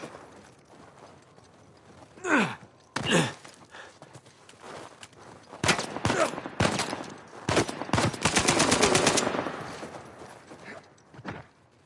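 Gunfire in the Uncharted 4 video game: scattered single shots and a rapid burst of automatic fire, moderately close, between quieter stretches of background ambience.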